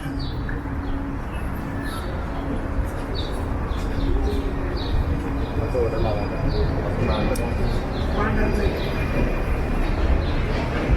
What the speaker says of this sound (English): I hear another train passing by up ahead.